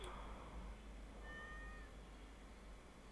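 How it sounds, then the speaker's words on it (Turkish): A cat meows once in the farming video game Stardew Valley, a short, fairly faint cry set against steady background game ambience. "Sanırım başıboş bir kedi, zavallıcık."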